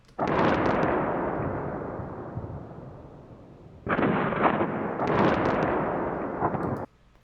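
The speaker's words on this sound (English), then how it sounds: "So what happened there is explosion" Two big booming video game explosion sound effects, each with a long rumbling roar that slowly fades before cutting off abruptly, loud and up close.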